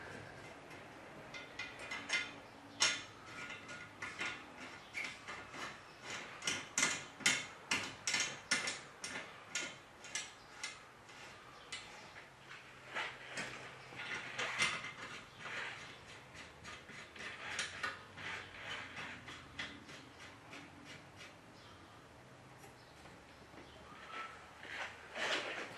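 A wrench snugging up the flex line fittings on a Wonderlight ultraviolet sterilizer, giving a steady run of quick close ratcheting ticks and clicks that goes on and off throughout, with no talking.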